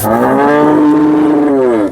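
A single long, loud cow moo, deep and drawn out, close by at the Sangola cattle market, with no talking.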